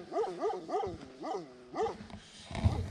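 Several dogs bark in a town dog park, a run of sharp yelping barks at moderate distance followed by a louder close thump of handling noise.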